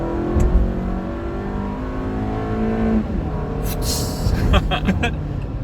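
A naturally aspirated 2019 Toyota RAV4 Limited engine revs up and accelerates with a steady rising drone, a smooth climb in pitch, then a brief shift with some rattling and noise near the end.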